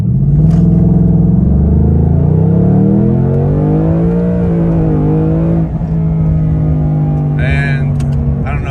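A 2021 Ford Mustang Mach 1 pulls away from a start in second gear, its loud V8 engine note rising steadily in pitch and droning heavily from inside the car, with a voice briefly heard under the engine.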